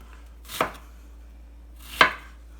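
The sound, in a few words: dicing onions with a knife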